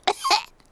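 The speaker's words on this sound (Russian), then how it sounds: "У меня кашель." A cartoon pig character coughs twice in quick succession, loud and close, in a voiced, throaty, animated style.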